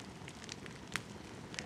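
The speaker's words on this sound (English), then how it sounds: "Nice warm fire." A campfire at a rainy mountain spike camp crackles faintly, with a few sharp pops over a soft steady hiss, heard alone and at low level.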